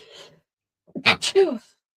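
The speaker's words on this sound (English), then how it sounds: "I'm going to sneeze" A single close sneeze with a quick intake and sharp burst, preceded by a brief murmur of speech.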